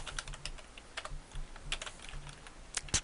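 Keys clatter on a computer keyboard during game programming, a quick irregular run of close, crisp clicks and taps with no voice.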